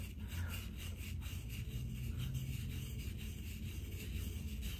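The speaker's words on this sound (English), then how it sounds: "let's go ahead and start rubbing this eraser in circular motions in my arm" Crystal hair eraser rubbed in circles on a hairy arm, giving a close, steady scratchy rasping with repeated back-and-forth strokes, faint and alone.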